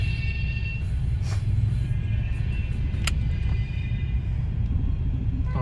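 Steady road traffic rumbles close by, with cars passing in a continuous low roar and a few brief higher whooshes or clanks, no voices heard.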